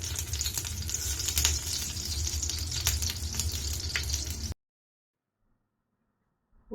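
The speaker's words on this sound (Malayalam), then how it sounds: "എണ്ണ ചൂടായി നമുക്ക് കടുകിടാം." Mustard seeds crackle and sizzle in hot oil in a pan, a dense, steady frying hiss with scattered pops that runs alone for several seconds and then cuts off abruptly to silence.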